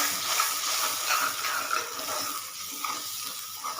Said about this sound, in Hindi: इसमें अब मैं डालूंगी ये मसाले, इनको अच्छी तरह से मिक्स कर लूँगी